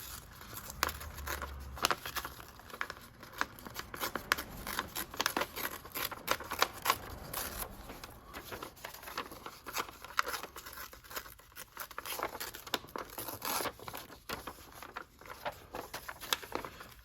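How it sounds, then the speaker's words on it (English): Magazine paper being torn and crinkled by hand at close range, with a run of irregular rips, rustles and crackles, some louder bursts between quieter handling, no talk. "Let's tear some of this off here."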